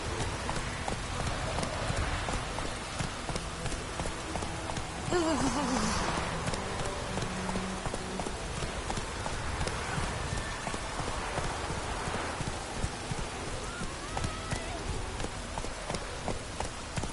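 Horse hooves clip-clop steadily through falling rain in a Witcher 3 game scene, an even trotting rhythm under constant rain patter, with a brief spoken line partway through.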